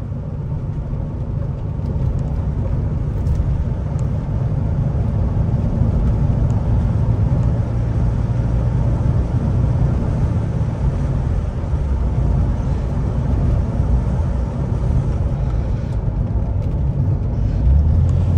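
1986 BMW 635 CSi E24 automatic driving along, a steady low engine and road rumble heard from inside the car, continuous and moderately loud with no clear break at the gear changes.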